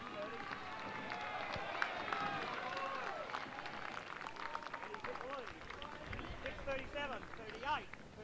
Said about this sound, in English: The crowd will give him a cheer.